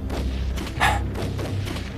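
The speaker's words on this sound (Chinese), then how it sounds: "这应该是鬼子的枪声" Gunfire from Japanese soldiers' rifles in a wartime mountain setting: a single dull, muffled shot lands near the middle, fairly distant, over a low steady rumble with no talking.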